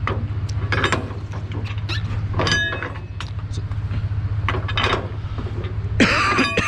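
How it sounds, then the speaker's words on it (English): Someone coughs repeatedly in short bursts from eating sunflower seeds, heard close over a steady low engine hum from a truck during a lumber delivery, with a louder clatter near the end. "Sorry, sunflower seeds are making me cough."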